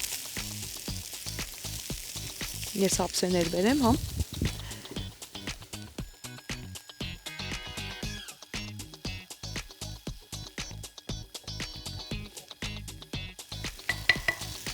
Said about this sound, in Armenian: Սա առանձին ենք տապակելու սոյայով